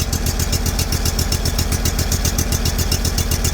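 A Sears Suburban snowblower with a 20HP Briggs & Stratton V-twin engine runs close by in deep snow, a loud, steady, pulsing throb with no voices.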